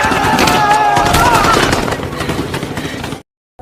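Rapid bursts of gunfire rattle loudly, dense automatic shots over a roar and faint shouting, trailing off before an abrupt silence.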